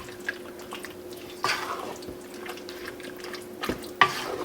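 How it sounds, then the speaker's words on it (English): Barbecue sauce stirred in a pan over low heat makes soft wet scraping and sloshing with a few sharper taps of the spoon, quiet and close, with no talking. "Then we're gonna stir this up."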